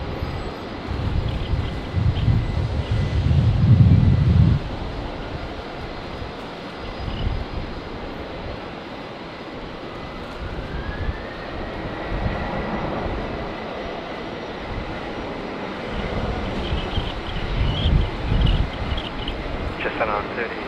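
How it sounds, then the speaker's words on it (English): A Qantas airliner takes off from runway 19 left at Brisbane Airport in windy conditions, a steady broadband jet roar that swells early, holds through the run and rises again near the end, with wind noise throughout. "Qantas 513 Runway 19 left, clear to take off"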